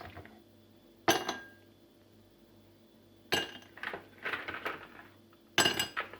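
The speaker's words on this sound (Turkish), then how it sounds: "Buzlarımızı bardağımıza alıyoruz. Ve içine atıyoruz." Ice cubes clink into a glass for a cold dalgona coffee, three sharp bright impacts spaced a few seconds apart with smaller rattling knocks between them, close and fairly quiet, no voices.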